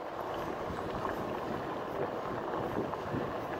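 Wind rushes steadily past while riding a Rad Power RadRover e-bike on a cold day, a continuous broadband roar and buffeting with no pauses and no voices.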